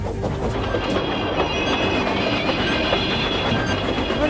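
A train rumbles continuously along the tracks, loud and close, with rhythmic clacking of wheels and occasional faint metallic squeals.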